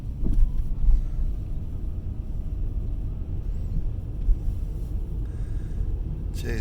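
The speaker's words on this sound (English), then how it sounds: "Oh, we've got 2 cars coming." Two cars pass along a road, a steady broad engine and tyre rumble at moderate distance that holds throughout, with no talking.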